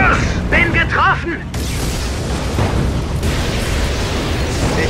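Loud, dense rumbling blasts, gunfire and bursts of combat from Codename Panzers Phase One fill the clip, with brief German voice chatter near the start before continuous roaring explosions.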